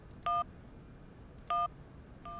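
Touch-tone keypad beeps from a phone in the Syberia adventure game: three short dialing tones spaced about a second apart over a low, steady background hum.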